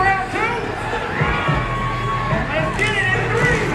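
A crowd at a mud truck pull at Ocala Truck Battles cheers and shouts in a dense, continuous roar, with individual voices whooping above the mass.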